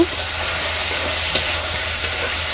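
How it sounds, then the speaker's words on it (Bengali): Sweet pumpkin peel frying in hot oil while being stirred, a steady close sizzle with a few soft scrapes and knocks of the spoon. "মিষ্টি কুমড়ার খোসা দিয়ে দেব তেলের মধ্যে নেড়া ছেড়ে দেব"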